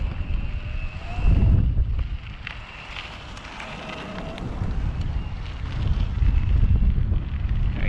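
Gusty wind buffets the microphone while riding a 2019 IZIP E3 TRLZ e-bike outdoors, a loud low roar that surges and eases in waves, with faint rolling and rattling beneath it.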